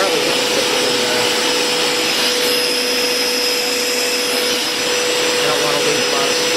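A Hoover Power Scrub Elite Pet carpet cleaner works on carpeted stairs, a loud, steady, close motor whine with a constant high tone running throughout, with a person speaking faintly over it.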